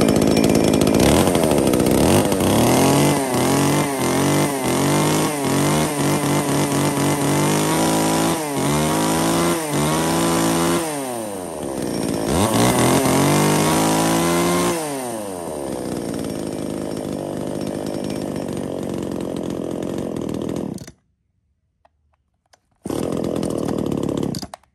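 A used Japanese chainsaw runs for about twenty seconds, its two-stroke engine loud and close, repeatedly revving up and dropping back to idle before cutting out, then restarting briefly.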